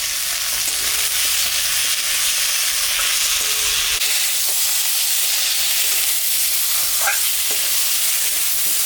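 Whole spices and small tengra fish fry in a hot pan for a fish curry, a loud continuous sizzle and crackle with occasional stirring scrapes, close and steady throughout.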